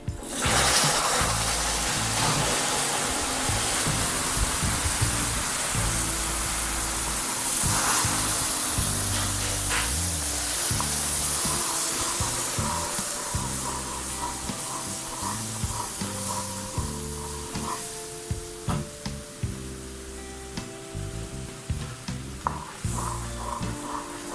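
Hot water poured into hot caramelized sugar for a burnt-sugar honeycomb cake, giving a sustained loud hiss and sizzle that slowly fades, with sharp crackles and pops toward the end.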